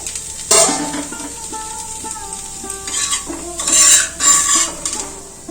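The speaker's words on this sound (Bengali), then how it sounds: "ঢাকাটা খুলে দেব সিদ্ধ হয়ে গেছে" A lid comes off a pan in which thin parboiled-rice sorucakli crepes are cooking, bringing metallic clanks and scrapes over soft sizzling, with louder clattering bursts toward the end.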